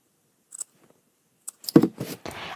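Scissors trimming fabric seam allowance on a sewn tote bag, a few short close snips and crisp cutting sounds, quiet at first and then a louder cluster near the end.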